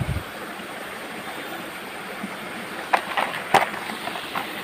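River water flows steadily along the Klopo River in Purworejo, a constant close rushing wash with a few brief splashy bursts near the end.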